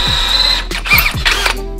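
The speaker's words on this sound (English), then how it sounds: "drill out these mounting holes just a little bit to get them to fit easier" A power drill briefly bores out the mounting holes in a bracket during brake work on a Subaru FRS, giving several short whirring bursts with small mechanical clicks, close and fairly loud.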